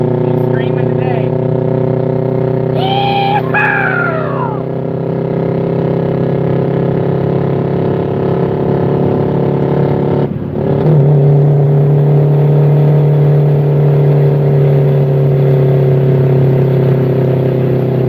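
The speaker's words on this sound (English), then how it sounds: "There's a Jake break. He's screaming today." A passing truck's Jake brake drones steadily in the distance near an empty lot, a loud low rumbling rattle under ongoing talk, with a chirping squeal early on and a deep brake tone dominating the second half.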